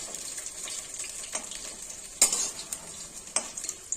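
Sweet pumpkin leaf fritters sizzle softly in a frying pan, with a few sharp scrapes and clinks as they are flipped over.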